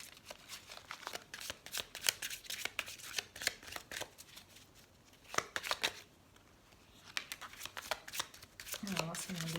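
Oracle cards for a lovers' reading being shuffled by hand, a run of crisp riffling bursts and soft slaps repeating through the clip, close and clear, with a brief spoken word near the end.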